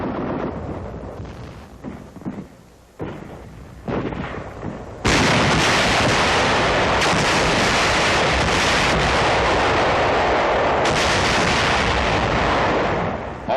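Satchel charges blast caves on Okinawa in 1945 as a series of heavy explosive bursts give way to a sustained, loud roaring rumble, like a drawn-out detonation and debris fall, with no voices.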